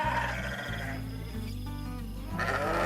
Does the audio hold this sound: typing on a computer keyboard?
no